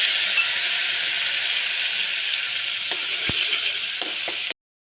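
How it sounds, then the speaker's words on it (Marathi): Homemade onion puree sizzles in oil and butter in a pan for pav bhaji. A steady, close hiss runs throughout, with a few soft utensil knocks near the end before it cuts off abruptly. "आता मम्मीने अनियनची पेस्ट टाकली आहे, घरी बनवलेली."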